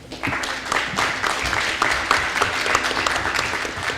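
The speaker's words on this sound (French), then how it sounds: "On leur doit aussi une main d'applaudissement." An audience applauds the organizers of a political science roundtable on Quebec elections: dense, steady clapping from a crowd that fills the full four seconds at even loudness.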